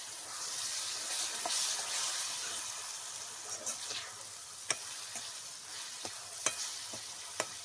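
Finely chopped tomato goes into a hot frying pan for a village-style chickpea curry and is stirred, giving a steady close sizzle broken by several sharp clicks and scrapes of the spoon against the pan.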